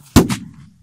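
A single loud, sharp bang of a 5-gram Dumbum firecracker exploding outdoors on New Year's Eve, followed by a quick echo and a short rumbling decay.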